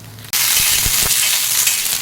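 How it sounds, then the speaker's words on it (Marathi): Loud, close sizzling of green chilies frying in hot oil on a griddle bursts in suddenly and continues as a steady crackling hiss. "तेल टाकून मिरच्या भाजून घेऊया"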